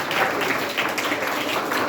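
An audience at a school Kamaraj birthday celebration debate event claps in a short, dense burst of applause, steady and fairly close throughout.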